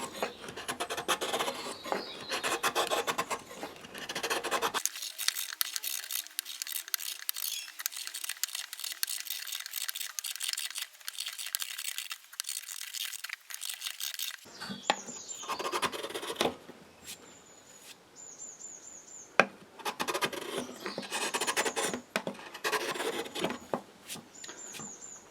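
End grain wooden bowl being carved and refined with a hand gouge: repeated rasping, scraping cuts in steady bursts, close and fairly loud, with a quieter stretch in the middle and some faint high tones.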